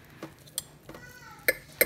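Crockpot BBQ chicken being mixed, with a few light metallic clinks and scrapes of utensil against the pot, quiet and close over a soft background.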